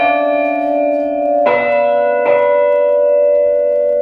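Carillon bells with heavy clappers ring out in rich, sustained tones, with two fresh strikes landing about a second apart over the lingering hum of earlier notes.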